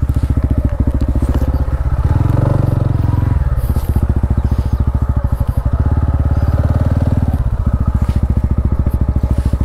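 Motorcycles roll in to park beside bikes already standing there. A close, loud engine chugs steadily throughout, with its revs swelling briefly partway through.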